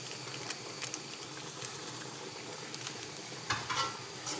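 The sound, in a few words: curry leaves and fish masala frying in biryani masala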